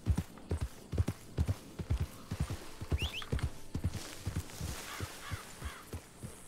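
A horse's hooves clip-clop at a steady walking rhythm in the video game Red Dead Redemption 2. The hoofbeats are close and distinct, with faint chirps and background ambience in the later part.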